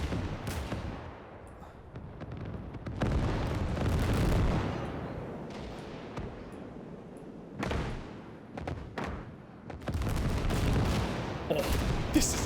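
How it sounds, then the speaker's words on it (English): Heavy tank-gun blasts and explosions from a massive KV super tank in the Gates of Hell war game, a barrage of deep booms and rolling rumbles with sharp cracks clustered near the end, loud and close with no talking. "Big explosion there, probably from that 300mm gun or something that massive KV tank had."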